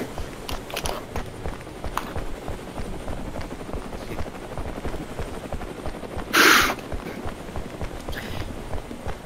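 A helicopter in the VR battlefield shooter War Dust drones with a steady, rapid rotor chop in the midst of combat, with a loud burst breaking through briefly partway and no voices.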